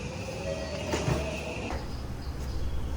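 A Tokyo metro train runs steadily close by, its rumble continuous for the whole stretch, with a faint high squeal drifting above the rolling noise.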